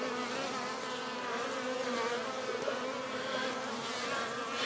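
Honey bees at a backyard beehive in winter hum in a steady, dense drone, many wings buzzing together close by with no talking over it.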